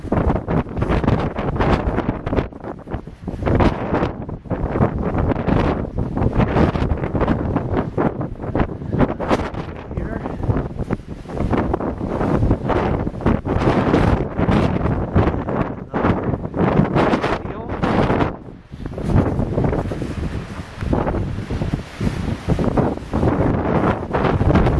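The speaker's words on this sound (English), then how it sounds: "Very windy up here." Strong wind gusts across an exposed hilltop near a water tank in Tingo Pucara, Ecuador, loud buffeting roar on the microphone with uneven surges and brief lulls, no talk.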